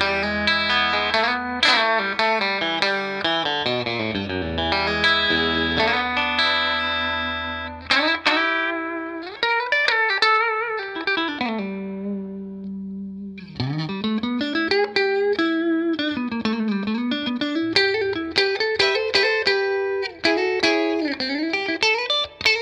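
A Fender Custom Shop Telecaster electric guitar with an ash body is played through effects with distortion and chorus, with single-note runs and chords ringing out continuously and close.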